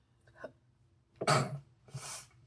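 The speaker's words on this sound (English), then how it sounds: "Okay, there I go sneezing." A person sneezes close by with a sharp, loud burst, then lets out a second breathy burst a moment later. A faint earlier catch of breath comes first, and no one talks.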